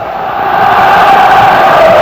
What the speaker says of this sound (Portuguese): Na arquibancada, a torcida fazia a festa.